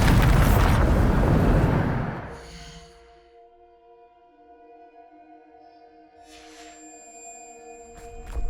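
A Bombarda blasting spell from Hogwarts Legacy goes off with a loud, dense explosive burst lasting about two seconds, then decays into a low rumble and lingering tonal hum, with a fainter second impact near the end.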